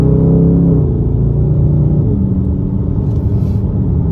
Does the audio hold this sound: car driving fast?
yes